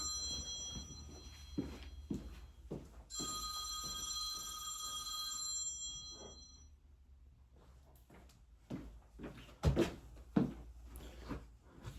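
A work phone rings nearby with a sustained electronic trill lasting a few seconds, set against scattered soft knocks and clicks from handling in an otherwise quiet room, with no one speaking.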